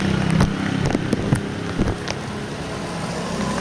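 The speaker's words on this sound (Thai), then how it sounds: "ฝนก็ยังตกเลย" Steady rain falling on a street in the evening, heard from a delivery rider's motorbike stopped in traffic, a constant broadband hiss with a few scattered sharper taps and low traffic rumble underneath.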